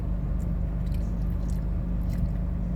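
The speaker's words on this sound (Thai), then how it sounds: "กัดลูกชิ้นด้วย" Wet, squishy chewing and biting of a meatball eaten with sour mango, close and steady throughout with no talk over it.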